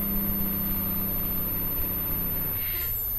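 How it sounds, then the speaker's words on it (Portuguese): A Peterbilt truck's engine brake holds back the rig on a road in England, giving a steady, close, loud low drone that runs evenly throughout without a break. "Tá segurando o freio motor"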